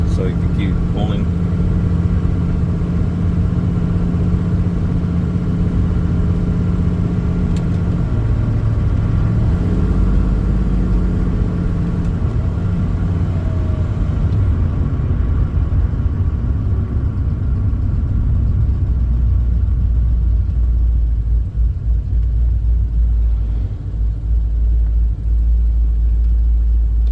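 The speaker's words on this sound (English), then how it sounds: "when it shifts, it's gonna go to the next gear, it's gonna drop an RPM" Pontiac GTO engine pulls steadily through a long acceleration with a deep, continuous rumble, the pitch dropping as it shifts into the next gear, then settling into a lower drone; someone talks over it.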